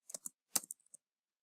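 A short burst of keystrokes on a computer keyboard, about eight crisp close clicks in two quick clusters, typing a command, then silence.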